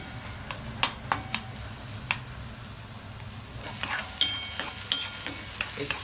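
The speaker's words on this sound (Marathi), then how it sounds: "कांदा चांगला फ्राय करून घ्यायचा" Onion frying in a pan for Maharashtrian egg bhurji (andyachi bhurji), a soft steady sizzle broken by sharp spatula scrapes and taps that grow busier toward the end, with no talking.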